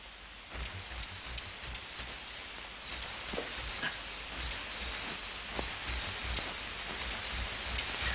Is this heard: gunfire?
no